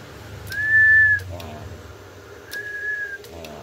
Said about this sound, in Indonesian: kita akan siul.